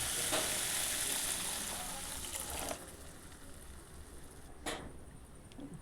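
Tomato chutney with added water bubbles and hisses in the pan, a steady, fairly loud frothy sizzle that eases to a quieter simmer partway through, with a brief splash near the end.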